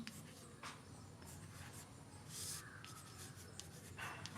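Chalk or marker writing on a board during a Class 8 maths lesson, a quiet continuous rubbing and scratching of strokes with brief pauses, faint and close, with no talk over it.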